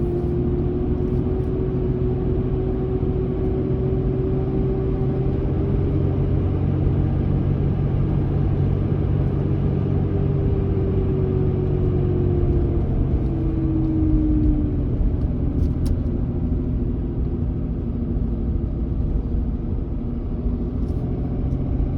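A vehicle drives up a private drive in Washington state, heard as a loud, steady low engine and road rumble that continues throughout without a break.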